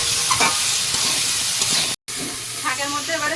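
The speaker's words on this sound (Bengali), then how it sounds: "এটা একটু নেড়ে চেড়ে ভেজে নেবো" Leafy greens with sweet potato are stirred and fried in a pan, giving a loud, close, continuous sizzle with scraping stirs throughout and a brief cut to silence midway.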